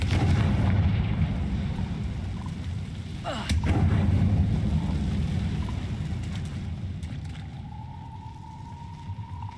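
A Confringo fire curse explodes in the video game Hogwarts Legacy: a loud, sustained rumbling roar with a sharp blast cracking through partway, then a thin rising whistle-like tone as the rumble fades.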